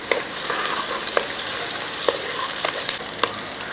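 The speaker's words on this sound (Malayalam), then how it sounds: "രണ്ട് മൂന്ന് വറ്റൽ മുളകും അങ്ങോട്ട് ഇട്ട് കൊടുക്കും ഇനി ഒന്ന് ഇളക്കി കൊടുക്കും" Shallots and dried red chilies stirred while frying in oil for a Kerala tuna fish curry, a continuous close sizzle with regular spoon scrapes and taps about every half second, no speech.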